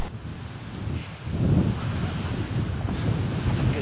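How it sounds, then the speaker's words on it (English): Strong wind buffets a microphone outdoors during a deer hunt, a loud continuous rumbling roar with gusty swells. "We got so much wind, though."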